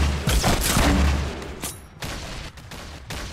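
Grenade explosions in the Fortnite video game: a loud booming blast up front followed by a quick volley of sharper bangs and pops, close and without talk.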